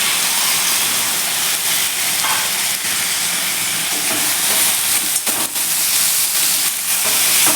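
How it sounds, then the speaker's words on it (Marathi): Chopped potatoes dropped into hot oil with fried spices in a pan, giving a steady loud sizzle and hiss throughout, with faint stirring scrapes and no talk. "हे छान आपले परतून झाले की त्यामध्ये आपण हा चिरून घेतलेला बटाटा घालूया"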